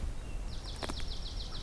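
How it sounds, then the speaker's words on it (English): A swamp sparrow calls from a wetland at Beaver Meadows in Allegheny, one fast trilled run of high notes at moderate distance over a soft outdoor background. "There's a swamp sparrow."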